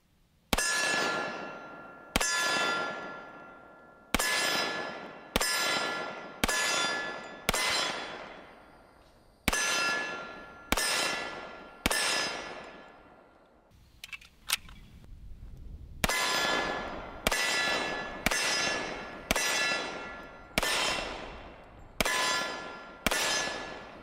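Rounds from a Rock Island Pro Ultra Match 6-inch 1911 in .45 strike steel targets, loud ringing clangs arriving in quick bursts of several hits with short pauses, each ring decaying before the next.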